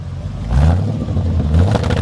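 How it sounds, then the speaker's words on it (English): A 1950 Oldsmobile 88 with dual exhaust idles close by with a low, loud rumble, swelling into two short revs before settling back. "Sounds great, man. A little rumble to it."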